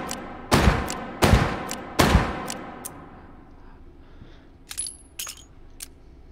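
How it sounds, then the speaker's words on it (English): A revolver fires in the VR game H3VR: three sharp, loud shots spaced about three-quarters of a second apart, followed by quieter mechanical clicks and metallic handling noises. "Good old fashioned wheel guns."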